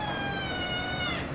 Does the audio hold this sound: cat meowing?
yes